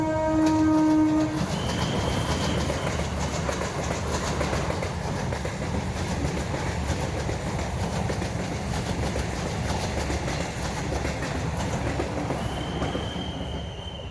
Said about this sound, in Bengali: ট্রেন আসবে, গেট পড়ে গেছে, ওই জন্য রেল গেটে দাঁড়িয়ে আছি আমরা। এই তো ট্রেন আসছে